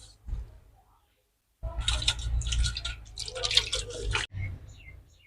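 Slaked lime stirred into water in a bowl, giving a burst of wet squishing and sloshing for a few seconds after a brief quiet, close and moderately loud.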